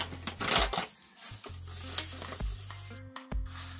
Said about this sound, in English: we're going to mix both salt together. Now for the Himalayan.